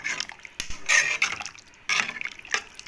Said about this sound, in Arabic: كده هنحط لها حاجه بسيطه من الميه كده ونغلي